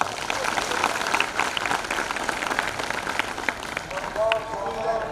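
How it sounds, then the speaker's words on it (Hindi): A crowd at an International Day of Yoga event at Central Jail Indore claps in a dense, sustained burst, with voices mixed in and a faint tone near the end. "तो उनको जोरदार तालियां।"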